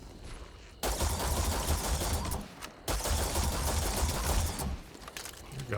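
Sustained automatic gunfire in the space video game Starfield, two long dense bursts separated by a brief pause, loud and continuous with no talking over it.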